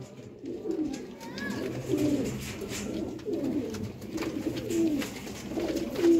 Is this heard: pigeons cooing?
yes